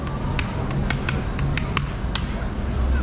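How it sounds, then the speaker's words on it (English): An ipu heke 'ole, a hollowed-out gourd used as a hula implement, gives about ten close, irregular taps and dry knocks with brief gaps between strikes. "Our third hula implement is the hollowed out gourd, the ipu heke ole, and it sounds like this."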